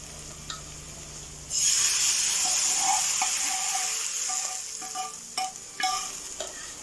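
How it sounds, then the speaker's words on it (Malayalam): Hot fried tempering hits a prawn, drumstick and raw mango curry in a cooker: after a quiet moment, a sudden loud sizzle bursts up and slowly eases, with spoon clinks as it is stirred in. "നമുക്കിതിലേക്ക് വറുത്തിടാം."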